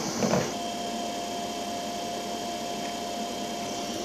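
Foxalien 1.5 kW VFD CNC spindle running at 3000 RPM gives a steady, close, airy hiss with a faint constant tone, after a brief clatter at the start and with no talk.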